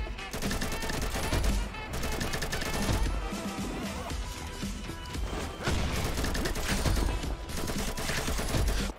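A gun in Combat Master fires in rapid, dense bursts, loud and close, with brief pauses between volleys and steady game noise beneath.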